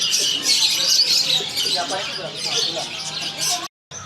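Small birds and chicks chirping at a busy Indonesian market, a dense continuous twittering with voices murmuring underneath, then a brief break near the end.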